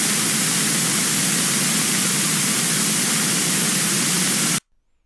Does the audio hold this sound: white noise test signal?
yes